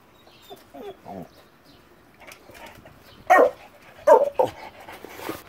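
A dog whimpers and vocalizes nearby in a string of short whines and yelps that grow louder toward the end, with some quiet sounds in between.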